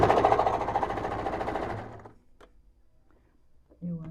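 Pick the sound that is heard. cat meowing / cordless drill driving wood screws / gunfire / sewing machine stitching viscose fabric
sewing machine stitching viscose fabric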